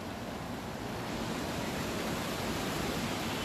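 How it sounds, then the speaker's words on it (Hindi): Fast-flowing Spiti khad river water in Mandi rushes in a dense, continuous roar, steady and loud throughout with no break or voice. "जो स्पीति खड्ड का यहाँ पर जो रुख है वो आप देख रहे हैं कि तेज बहाव में यहाँ पर पानी बहता हुआ"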